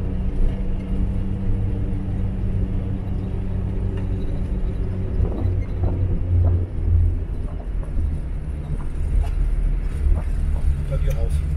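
A car drives up onto a motorway in Russia, with a steady engine and road rumble heard from inside the cabin, while people talk over it.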